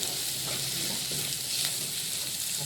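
Eggs sizzle and fry in a pan for egg veg rice, a steady dense crackling hiss close up with faint stirring touches.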